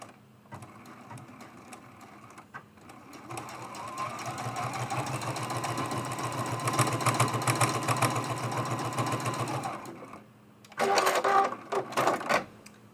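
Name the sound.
sewing machine sewing a quilted mug rug seam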